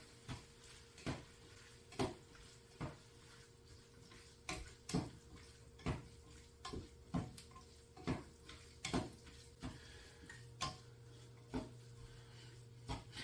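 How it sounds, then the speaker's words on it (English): A utensil mixes sloppy joe pasta with Worcestershire in a pan, making quiet, regular taps and scrapes about once a second over a soft low simmer. "I'm going to mix this all up together really well here"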